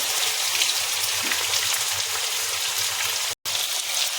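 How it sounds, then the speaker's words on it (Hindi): Chicken frying in hot oil crackles and spits in a dense, rain-like patter that stays close and even, broken by one split-second dropout near the end. "तेल गरम हो गया, इसमें डाल रहे हैं चिकन को फ्राई करना है। फ्राई हो रहा है चिकन।"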